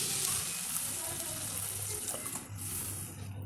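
Water is poured into a simmering cauliflower curry thickened with crushed peanuts, a steady close splashing gush with a faint low hum beneath, holding for a few seconds before tapering slightly.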